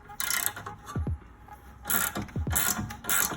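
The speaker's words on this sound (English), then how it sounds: "Get a breaker bar, and then I just got a wrench and hold the other side. You want to break them free." A breaker bar and wrench work loose tight, long-seized coilover bolts while adjusting ride height, making bursts of metallic ratcheting clicks and clanks in several separate clusters, fairly close and with no talking.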